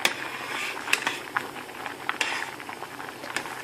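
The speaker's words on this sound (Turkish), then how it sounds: "Rendelenmiş domatesimiz kaynıyor." Thick grated tomato pulp bubbles and pops steadily in a pot, a soft continuous simmer with scattered small plops.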